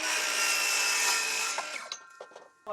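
A power saw cuts 45-degree angles through Miratec trim for shed siding, a loud steady whining cut lasting over a second before winding down into scattered knocks and a short final burst.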